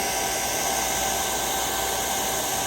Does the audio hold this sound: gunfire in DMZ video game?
no